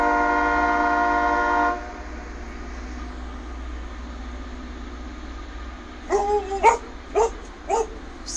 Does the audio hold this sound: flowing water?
no